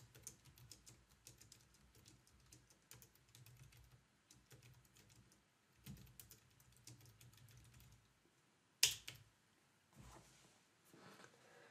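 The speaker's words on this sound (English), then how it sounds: "So let's type up some text." Quiet, close typing on a computer keyboard, a string of light rapid clicks in short bursts with pauses, then a sharp louder click near the end.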